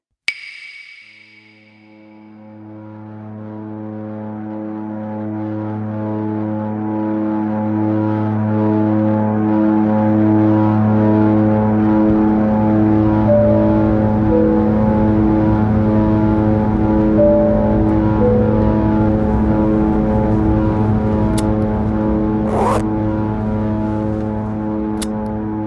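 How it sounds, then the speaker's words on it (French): Small red twin-propeller airplane in flight, heard from inside the cabin: a loud, steady droning hum with strong tonal engine harmonics that swells up after a brief quiet start and holds constant throughout. "Mon avion est rouge, minuscule, soutenu par 2 hélices ridicules dont l'effort de nous porter fait trembler jusqu'au siège"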